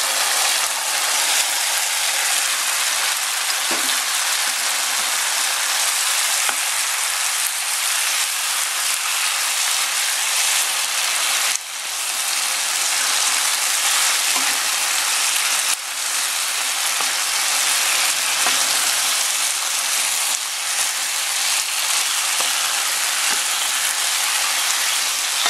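Pork frying in a pan with tomato for spicy pork menudo: a loud, continuous, even crackle and sizzle holds steady for about twenty-five seconds, with a few faint clinks and no talk.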